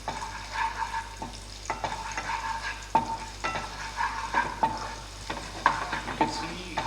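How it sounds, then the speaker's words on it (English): Chopped garlic sautés in hot oil with a steady close sizzle, broken by repeated spatula scrapes and taps against the pan at a loose, irregular rhythm. "Now saute the garlic."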